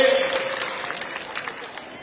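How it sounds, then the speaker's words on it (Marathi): An audience at a political gathering claps to welcome a guest, a dense wash of applause that fades gradually, with a brief voice heard at the start. "टाळ्या वाजून त्यांचं स्वागत करावं"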